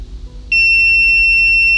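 A multimeter continuity beep starts abruptly and holds as a sustained high tone, close and clear against a quiet background.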